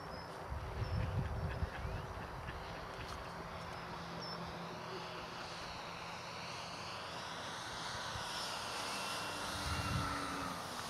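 A model A-26 Invader aircraft comes in to land, its engine a steady, fairly distant drone over outdoor wind noise that swells slightly near the end.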